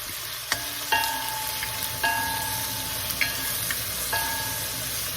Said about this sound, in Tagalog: Kaya ang kamatis po igigisa natin para po madurog.